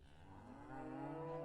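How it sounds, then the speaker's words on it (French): Cattle waiting to be milked give one long, drawn-out moo that swells and rises in pitch, heard at a moderate distance with no voices. "Seules les vaches mugissent en attendant leur traite."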